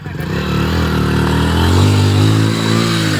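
Motorcycle engine revving hard on a rain-soaked, muddy village road where the bike is stuck; a loud, continuous, rising engine drone fills the clip, steady and close.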